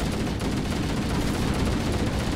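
Rapid automatic gunfire from Halo rattles on without pause while an elite is being shot at, a dense, loud stream of shots over a rumbling battle backdrop.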